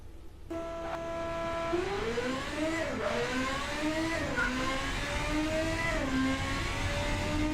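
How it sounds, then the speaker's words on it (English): A simulated supercar engine in the car-design game Automation revs up through several gears, a loud whirring drone that climbs in pitch, drops at each shift and climbs again, steady and close with no talk. "I'm actually going to load up a car that I would count as a supercar with this engine as well."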